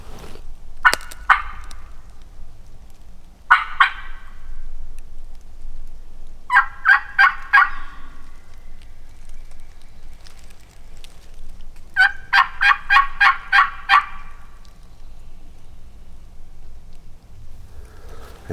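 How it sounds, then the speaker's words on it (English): Wild turkeys, a hen and a gobbler, call in bursts from a distance: sharp rapid clucks and yelps repeated several times, with quiet woodland pauses between. "Got a hen snapping back at us."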